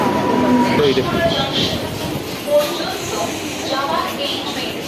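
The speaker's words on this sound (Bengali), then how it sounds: "চলো আমাদের ট্রেন এসে গেছে" A train rumbles and clatters into a station, with a brief squeal of metal and a busy crowd of voices chattering throughout.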